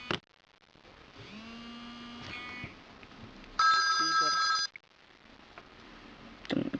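Ringtone melody test on a Samsung Android phone, with electronic tones, a loud bright burst of ringing in the middle and short beeps, heard close up over a quiet background.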